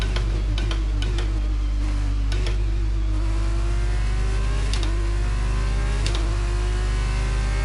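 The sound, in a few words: F1 car weaving to warm tyres, video game F1 22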